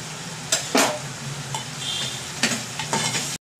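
Potatoes stirred through a sizzling red gravy in a pan: a constant frying hiss broken by a few sharp scrapes and clinks of the spoon, close up, with no talking.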